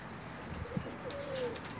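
A male teddy pigeon gives a soft, quiet coo, a brief low note followed by a longer drawn-out tone over faint background noise.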